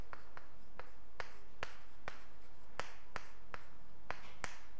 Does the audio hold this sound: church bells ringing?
no